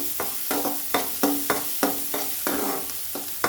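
Potato and brinjal frying in a pan for a sabzi, with steady sizzling broken by repeated scraping stirs roughly every half second, close and fairly loud, no voices.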